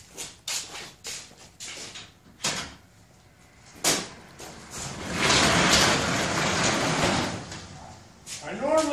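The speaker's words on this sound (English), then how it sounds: "Let's open that garage door just in case." A garage door in a car shop rattles open with a sustained rolling, clattering rumble in the middle stretch, preceded by scattered knocks and clunks, with a voice talking at the end.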